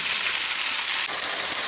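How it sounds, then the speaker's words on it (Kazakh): Liver frying in a pan, a steady close sizzle with dense hiss throughout, briefly dipping near the end before continuing. "2 минуттай қуырдық бауырды"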